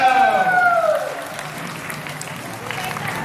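Audience applause welcomes contestants at a Thai game show before a musical chairs round, starting fairly loud and thinning after about a second into a steadier, softer patter.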